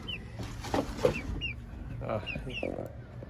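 Chickens and roosters on a small Nepali household flock cluck and call in short, scattered bursts at moderate distance, with people talking nearby over the birds.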